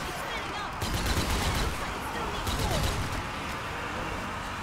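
Rapid gunfire from the zombie shooter Zombie Army 4 crackles steadily through the whole stretch, with bursts thickening in the middle, while players talk over it.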